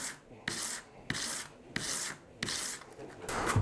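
A used broadhead blade is drawn across 240-grit sandpaper in repeated rasping strokes, about six passes with brief pauses between them, close and alone with no talk.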